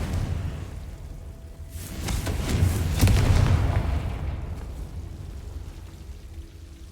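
Bombarda and Confringo spell explosions in Hogwarts Legacy: a loud, rumbling blast swells and decays over a few seconds beneath a rushing, crackling spray, sounding near and heavy.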